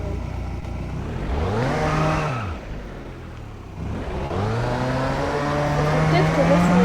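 Peugeot 205 engine in the BeamNG driving game, revving up and dropping off twice with rising and falling harmonic whine, loud and close, then holding a steady higher pitch.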